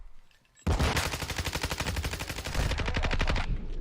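Rapid automatic gunfire from the video game Modern Warfare 2 erupts after a brief quiet and runs as a dense, loud, close stream of shots for about three seconds, with no talking.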